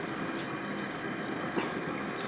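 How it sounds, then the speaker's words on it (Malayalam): Water poured into a cooking pot of bone-in meat for a Kerala-style dish, a steady, close splashing rush that runs unbroken with one brief louder splash. "ഇനി നമുക്ക് ഒരല്പം വെള്ളം കൂടെ ഒഴിക്കാം"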